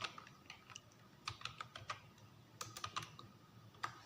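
Keys clatter on a computer keyboard while entering data in Excel, an irregular run of close, quiet taps with short gaps between them.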